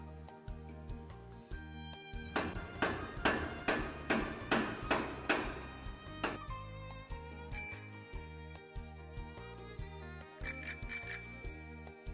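A hammer knocks in a quick run of about a dozen even blows, followed by two short bursts of bright bicycle bell ringing, all over a faint background melody.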